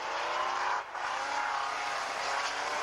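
Banger stock cars race to the finish line at a 1998 Warton Stock Car Club meeting, engines roaring steadily and loud throughout with a brief dip near the start.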